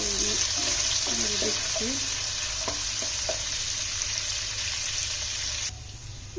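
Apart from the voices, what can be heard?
cinnamon, cardamom and bay leaf frying in oil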